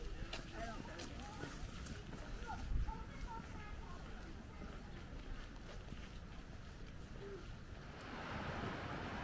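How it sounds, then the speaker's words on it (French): Surf and wind on a beach at Charleston make a steady, broad wash with gusty microphone rumble, swelling slightly near the end, while people talk over it. "Et nous voici sur la plage."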